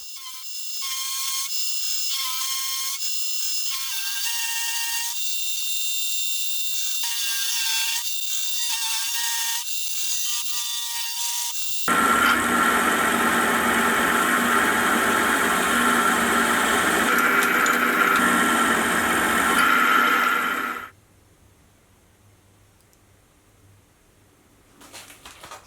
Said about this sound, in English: start to machine in a recess for the screws